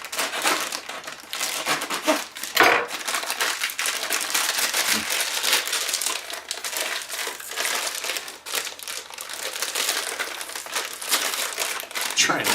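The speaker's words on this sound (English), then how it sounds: "about to rip this thing open and dump it everywhere" A British 24-hour MRE ration food pouch is torn open and handled, filling the stretch with loud, continuous close-up crinkling and crumpling of packaging, with a sharp tearing burst near the start.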